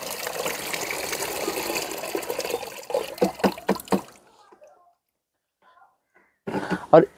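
Liquid compost fertilizer made from fruit peels, including mango, orange, lemon, banana and apple, is strained and pours steadily for about three seconds. Brief splashes and drips follow, then a pause, and a short burst of pouring comes at the end.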